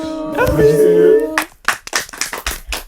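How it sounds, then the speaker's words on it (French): A small group at a talk event claps after a voice at the start, a few separate loose claps that come close and irregular in the second half. "là, on applaudit"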